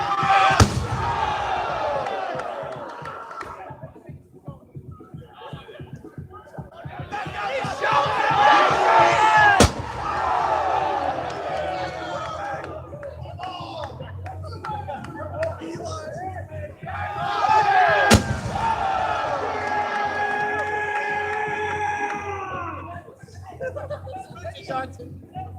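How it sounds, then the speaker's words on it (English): At a university TV drop, televisions fall from a height and smash with sharp, loud cracks, two standing out clearly, over the constant chatter and cheering of a large gathered crowd. "Some of the TVs they're dropping are quite large."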